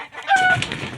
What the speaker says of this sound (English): The chickens don't like the noise.